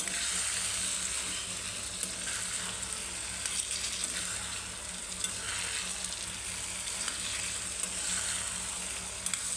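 Masala for a soybean biryani stir-frying in a pan, with a continuous bright sizzle and soft intermittent stirring scrapes, close and alone.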